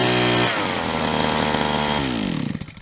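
A petrol chainsaw roars loud and close in the taiga, its engine pitch shifting as the throttle changes, then winding down toward the end.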